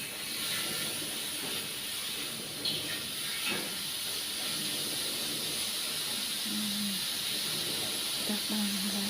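Cilok skewers in peanut sauce grill on a Teflon pan over a lowered stove flame, giving a steady close sizzle and hiss throughout. Occasional voices are heard faintly underneath.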